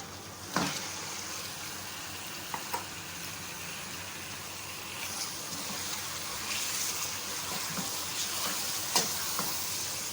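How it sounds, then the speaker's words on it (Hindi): Chicken pieces fry with garlic powder in a pan, giving a soft, steady sizzle with occasional clinks and scrapes of stirring, close and fairly quiet, no voices. "चिकन को इतना भूनें कि इसका जो कलर है वो चेंज हो जाए"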